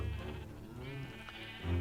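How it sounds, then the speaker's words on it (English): Sheep in a Minecraft modpack game give wavering bleats, one after another, fairly faint over a steady background hum. "a pen with 12 sheep"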